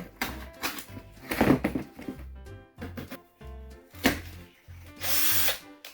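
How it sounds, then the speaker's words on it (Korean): A power drill bores a hole through a plaster ceiling to mount a light where there is no wiring, whirring in several loud bursts separated by brief pauses. "중간을 뚫어 줄게요."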